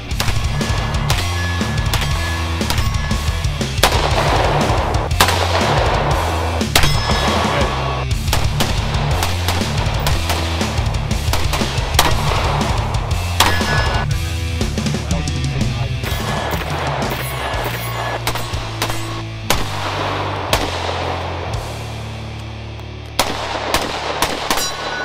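Rifle shots at an outdoor shooting range, with a Barrett M82 and a Sig M400 in use, repeated loud sharp reports with some rapid strings, heard over continuous steady background music-like noise and wind.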